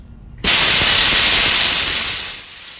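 An automatic brass purge valve on a garage air compressor bursts open with a sudden loud, rushing hiss of blown-out air that holds strong, then fades to a lower steady blow.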